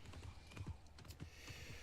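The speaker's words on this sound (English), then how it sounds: "This horse is definitely better than the Witcher 3 horse, in my opinion, because it hugs the road." Horse hooves clip-clopping on a road in New World: a quiet, steady trot of hoof clops repeating evenly under faint background noise.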